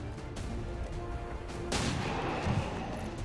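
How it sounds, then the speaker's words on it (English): A single pistol shot fired in the tactical strategy game XCOM 2, a sharp burst with a brief rumbling tail that rises over a steady low game-music bed, with no voices. "might be able to take one out with the pistol"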